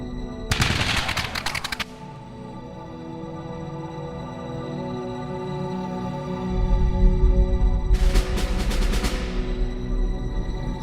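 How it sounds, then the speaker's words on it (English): Two crackling volleys of massed gunshots from a firing squad executing soldiers of the Continental Army, each lasting over a second and several seconds apart, with a low rumble building between them. "ordered to shoot. This time, the shots find their target."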